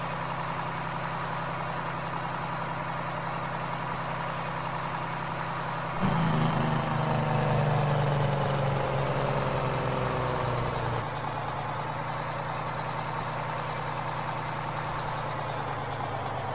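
A truck engine idling in a farming simulator game, a steady low droning hum that swells for several seconds in the middle as if revved, then settles back to a constant idle.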